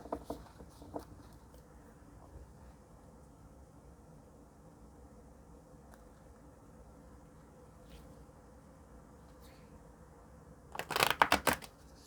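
White Light Oracle cards being shuffled in a brief, close burst of rapid riffling and flicking near the end, after a quiet stretch with faint taps and rustles.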